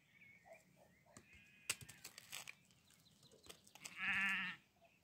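A sheep lets out one loud, drawn-out bleat near the end, after soft rustling and scattered faint bird calls outdoors.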